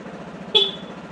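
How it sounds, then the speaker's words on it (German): A single short Vespa GTS scooter horn toot, fairly close, cutting briefly over a low steady engine rumble. "Hupe geht auch."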